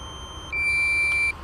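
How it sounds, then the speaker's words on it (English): DJI Mavic Pro controller emits a single steady high-pitched low-battery beep lasting under a second, clear against faint outdoor background hiss. "I'm sorry for the beeping."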